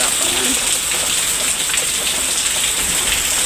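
Heavy monsoon rain pours steadily and loudly, a dense unbroken hiss of drops on surfaces with no pauses and no talk over it.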